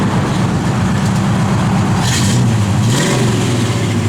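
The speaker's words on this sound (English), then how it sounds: "rev so you can see the tach working" A 1965 Pontiac GTO V8 idling and revving, a loud close engine rumble with a couple of rises in pitch as the throttle is blipped.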